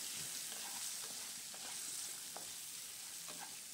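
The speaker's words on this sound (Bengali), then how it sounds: "সামান্য নুন আর হলুদ দিয়ে দিলাম, দিয়ে আলুগুলো ভালো করে ভেজে নেব।" Potatoes frying in oil with salt and turmeric give a soft, steady sizzle with a few faint scraping clicks of stirring, quiet and continuous with no talking.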